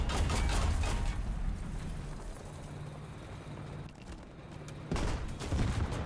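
Automatic gunfire from a belt-fed gun in the War Thunder tank game, sustained rattling bursts that are loud at the start, continue more quietly through the middle and swell again near the end.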